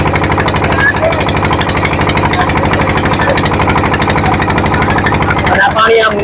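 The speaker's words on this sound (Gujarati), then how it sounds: "કદાચ તમને મારો અવાજ નહીં આવતો હોય, આનું સ્ટીકરિયું મશીન ચાલે છે ને એન્જિન, એને લીધે." Boat engine running on the Narmada river, a loud, steady rapid chugging drone heard up close throughout, with someone talking faintly beneath it.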